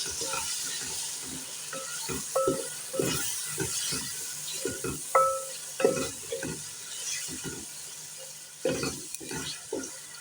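Spices fry with tomato, green coriander and a green chili in a pan, giving a moderate sizzle with frequent clinking stirs and scrapes, a few short tonal beeps, and no talk.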